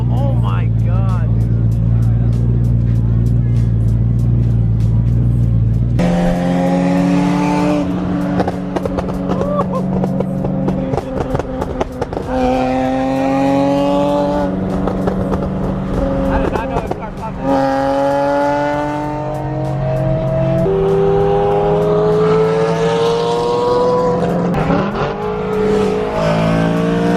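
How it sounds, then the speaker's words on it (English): A turbocharged car at a JDM car meet revs and accelerates hard in rising, sweeping engine pulls, loud and close, with crowd noise around it. "I hear a badass turbo."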